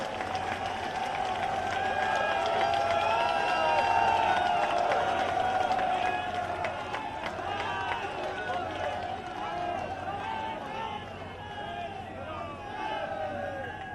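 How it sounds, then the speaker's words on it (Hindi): At a rally, a large outdoor crowd applauds steadily to welcome Yogi, a broad wash of clapping that swells and then tapers off, with a voice speaking over it through a loudspeaker. "जोरदार तालियां बजाकर सारे लोग आदरणीय योगी जी का दोनों हाथों से करतल ध्वनि से ताली बजाकर उनका"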